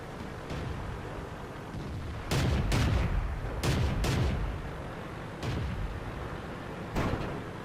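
Tank cannon shots in the World of Tanks video game, with several loud booming blasts in two close pairs and then single shots, each fading over a constant low rumbling battle background.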